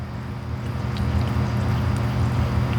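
Water is poured steadily onto a soil sample in a lab funnel, a continuous close gushing and trickling wash with no pauses, loud and unbroken throughout.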